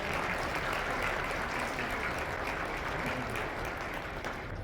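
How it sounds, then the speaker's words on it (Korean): Wedding guests applaud at the start of a ceremony, a steady, even wash of many hands clapping together at a moderate distance, sustained without a break. "박수 부탁드립니다."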